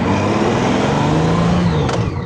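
A Honda Goldwing trike with a conversion kit, pushing roughly 1,200 pounds, accelerates with a loud, close, continuous engine drone that holds steady for a couple of seconds.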